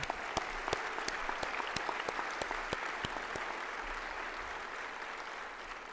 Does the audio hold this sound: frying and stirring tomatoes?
no